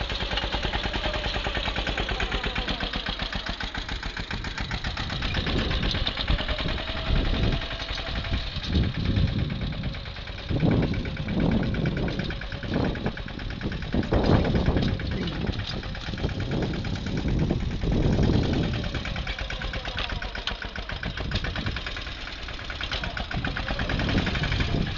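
A Mahindra Yuvraj 215 tractor at work on farm fields runs with a loud, continuous low engine rumble for the full stretch, with rhythmic knocking pulses and slight swells in load.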